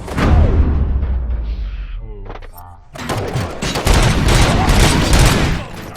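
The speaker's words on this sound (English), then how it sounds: "Am I hearing gunshots?" Rapid bursts of gunfire crackle loudly in the video game RoboCop: Rogue City, with a lull and some mechanical clatter before heavy shooting resumes to the end.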